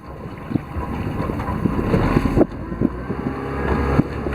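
A Bayliner Element M15's small outboard engine runs steadily on a lake, with wind buffeting the microphone and occasional knocks and splashes nearby.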